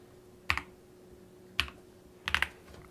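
Typing on an Epomaker TH40 40% compact mechanical keyboard, with a few crisp, close clicks heard as isolated keystrokes followed by a quick double-tap cluster, set against a quiet room.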